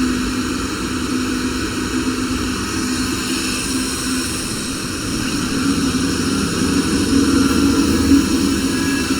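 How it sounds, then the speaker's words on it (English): A CNC router's vacuum table suction runs as a loud, steady roaring whoosh with a constant tone, rising slightly in level toward the end, with no talking. "I'm gonna manually engage table suction"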